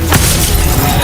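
A Reducto shattering spell goes off in a video game, a loud, sudden crash and burst of breaking noise that fills the short moment with dense, crackling debris.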